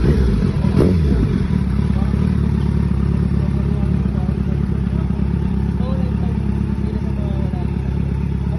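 A 900cc motorcycle engine running with a steady low rumble and a brief rev near the start, loud and close, with people talking over it.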